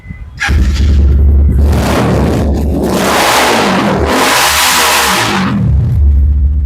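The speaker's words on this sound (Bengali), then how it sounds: "আমরা বাইকের একটু সাউন্ড শুনি" A YCR 250-RR sport motorcycle with a water-cooled 250 cc engine and stock exhaust revs hard, loud and close, rising and falling in two long throttle blips between idle, with no talk.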